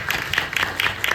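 Audience applause at a film event, a short burst of many hands clapping, fairly loud and even throughout with no voices over it.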